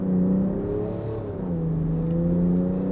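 A Land Rover Defender diesel accelerates hard from a standstill, its engine droning loud and steady from inside the cabin, pitch climbing then dropping briefly at a gear change before rising again.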